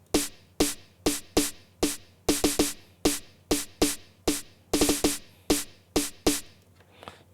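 An electronic snare drum sample, D114 in Logic Pro, hits sharply about sixteen times in a steady rhythm with a few quick doubled strikes, each crisp and up close, ending with a faint trailing tail.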